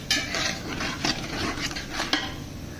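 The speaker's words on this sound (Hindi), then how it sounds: "इसमें आलू डालेंगे।" Potatoes go into fried masala in ghee in a cooking pot, with a metal spoon scraping and clinking against the pot over a soft frying sizzle, no talking.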